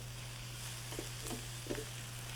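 Charred Brussels sprouts with bacon and lemon juice sizzle softly in a pan while being stirred, with a few quiet scrapes and clinks over a low hiss and a constant electrical hum.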